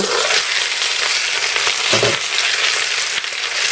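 Loud, steady sizzle of breaded pork cutlets stuffed with cheese and mushrooms frying in a hot pan, close up, with a brief soft scrape partway through.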